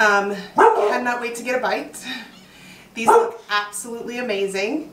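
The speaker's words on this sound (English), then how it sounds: "I apologize for the dog barking" A neighbor's dog barks in short bursts in a home kitchen, the yaps partly mixed with close, ongoing talk about food.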